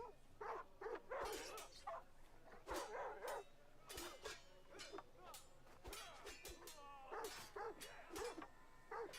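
A dog in the video game Civilization VII barks and yips repeatedly in quick bursts, fairly clear and steady across the stretch, with faint voices underneath.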